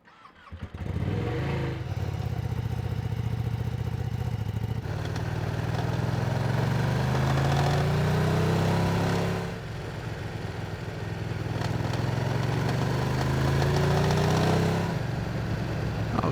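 A 2023 Ducati Streetfighter V2 motorcycle in matte Storm Green roars steadily on a test ride, its engine note rising and falling through revs close and loud, with a brief dip around the middle before climbing again.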